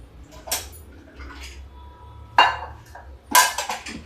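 A spoon stirs pumpkin vegetable curry in a cooking pot, giving three sharp metallic clinks and scrapes spaced a second or two apart over a quiet background.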